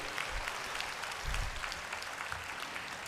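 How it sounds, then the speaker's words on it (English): Applause from a crowd at a university convocation ceremony fills the hall, a continuous bed of clapping heard from a distance with low rumbles underneath. "Please applaud and clap your hand that you are here."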